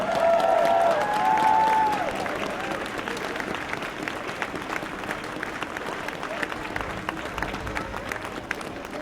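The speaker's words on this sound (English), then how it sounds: "Please give them a round of applause." Sustained applause from an audience at a community gathering, a dense wash of many hands clapping that is loudest at the start and continues steadily throughout, with a few voices and cheers mixed in.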